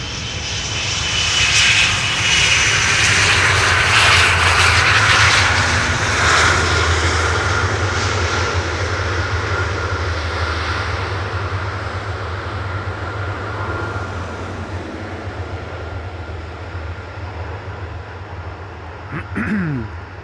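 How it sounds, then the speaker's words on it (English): An airliner lands on Schiphol's Polderbaan runway 18R with a loud, close jet roar that peaks early as the thrust reversers spool up, then slowly fades as the aircraft rolls out. "You may spool up those reversers now."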